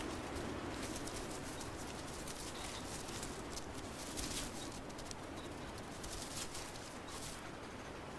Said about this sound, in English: Raiding flocks of wood pigeons are joined by another thief,